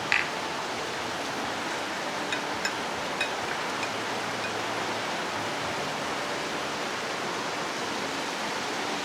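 Heavy rain pours down in a constant, dense hiss, with a few faint clicks near the start and no voices.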